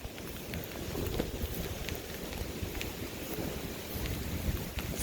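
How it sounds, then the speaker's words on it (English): Steady rain hisses across a graveyard while low, rolling thunder rumbles faintly in the distance, a continuous wash of wet noise with no voices. "You hear that rolling thunder?"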